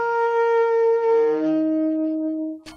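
A saxophone's low C, pushed with too much mouth pressure, holds a loud buzzy tone that cracks partway through and jumps between harmonics before cutting off with a short breathy noise at the end.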